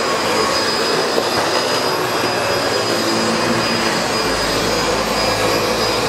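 A SEBO Felix upright vacuum cleaner runs steadily and loudly, its broadband whine and airflow rush holding constant throughout with no pauses.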